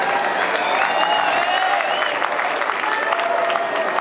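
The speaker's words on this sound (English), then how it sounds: "You follow with me, clap." Audience clapping along in rhythm at a Rajasthani folk music concert with khartal, steady dense applause-like hand claps filling the space, loud and continuous.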